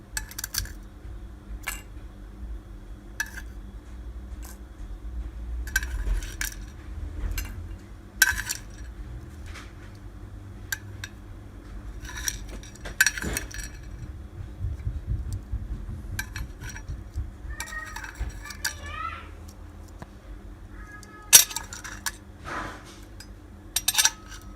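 Small fork and spoon clinking against dishes at an Aussie breakfast, scattered light metallic taps and chinks at close range, irregular and fairly quiet over a low background rumble.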